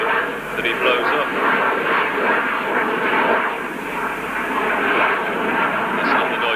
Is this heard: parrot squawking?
no